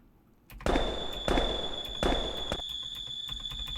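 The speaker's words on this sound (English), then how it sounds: "Let's start a spin and launch our fireworks." Fireworks in the video game Kerbal Space Program launch as a series of sharp bursts and pops in quick succession, with a thin high tone ringing steadily underneath.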